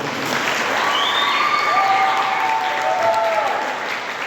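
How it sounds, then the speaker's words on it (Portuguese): A Catholic church audience at a youth jubilee opening applauds steadily, with dense, sustained clapping from a large crowd and faint whistles rising above it. "Pode aplaudir,"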